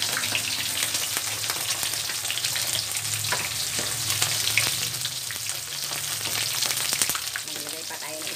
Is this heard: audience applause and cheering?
no